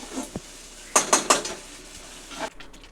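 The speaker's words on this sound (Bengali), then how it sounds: "কন্টিনিউ নাড়ছি, নাড়লে লেগে পড়ার একটা চান্স আছে।" A utensil stirs food in a metal cooking pan while a doi katla fish curry is being made, giving a few quick, light scraping clinks in a short burst between quieter moments, fairly faint and with no talk.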